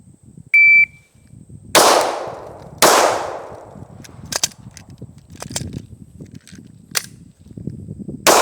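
A personal concealed-carry handgun fires during a timed shooting drill, preceded by a shrill shot-timer beep; two loud, sharp reports ring out, followed by clanks and clicks of handling and malfunctions, with a final shot at the end.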